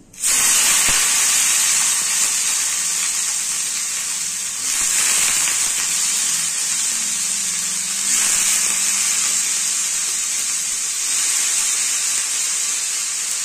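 Cubed bitter gourd and potato dropped into hot oil tempered with panch phoron, giving a sudden loud, steady sizzling hiss that keeps up strongly throughout with small surges.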